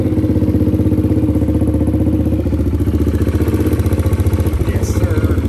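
A kids' dirtbike built into a budget supermoto runs close and loud, its engine beating in a rapid steady clatter with a brief shift in pitch partway through.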